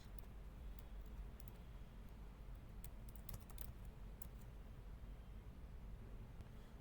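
Someone types a search term into a WordPress plugin search box on a computer keyboard, making a brief, faint cluster of light key clicks against a steady background hiss.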